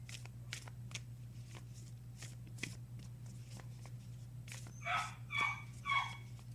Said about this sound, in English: the dog's barking all of a sudden